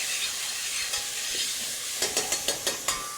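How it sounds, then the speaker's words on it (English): Onion and garlic fry softly over medium heat in a pan for a fresh tomato spaghetti sauce, with a gentle continuous sizzle. A quick run of utensil scrapes and taps comes near the end. "I'm going to cook that garlic until it becomes fragrant"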